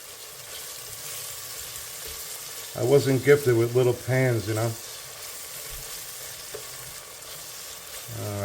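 Mushrooms sweat in a pan with salt and black pepper for cream of mushroom soup, giving a steady soft sizzle throughout while someone talks briefly in the middle.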